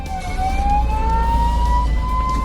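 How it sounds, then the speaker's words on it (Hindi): An ambulance stuck on a road blares its siren, a loud, close, steadily rising wail over a heavy low engine rumble, with no voices present. "एम्बुलेंस ड्राइवर सायरन और हॉर्न बजाने लगा"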